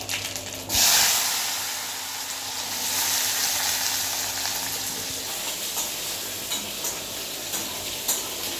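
Cut hog plums (amra) drop into hot mustard-oil tempering with a sudden loud burst of sizzling near 0.7 s, settling into steady frying hiss with light stirring, no voices.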